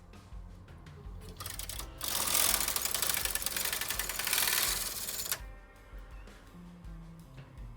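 A Brother KH 230 chunky knitting machine carriage sweeps across an intarsia row, a loud rattling, clattering mechanical run lasting a few seconds with quieter handling clicks before and after.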